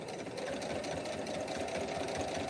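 A sewing machine runs steadily, stitching a ghost pillow, with an even, continuous mechanical hum throughout and no talking.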